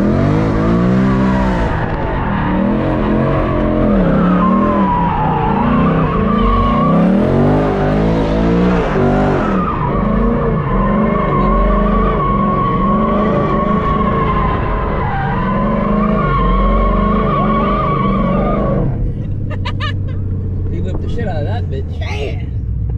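A Ford Mustang GT slides through a drift, its engine roaring and tires skidding in one loud, continuous wash of sound, while people's voices run underneath throughout.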